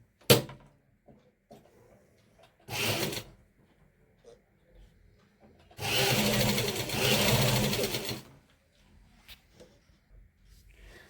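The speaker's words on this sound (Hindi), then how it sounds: "जिस निशान को हमने लगाया है उसी निशान से हम सिलाई लगाना शुरू करेंगे।" A sewing machine stitches lace onto fabric for six-panel palazzo pants in two bursts, one short and one longer and steadier, with quiet handling noises in between.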